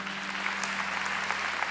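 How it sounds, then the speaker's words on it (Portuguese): An audience at a talk about when human life begins claps together in steady, even applause that carries on throughout at a moderate distance, with no voices over it. "Amém. Vamos aplaudir a Kátia."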